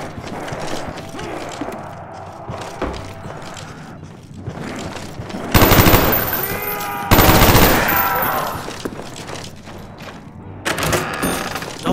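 Shotgun blasts from a first-person zombie shooter, Black Ops Zombies on the Kino der Toten map, come as a few loud, broad bursts against busy mechanical game sounds and clatter, with no one speaking.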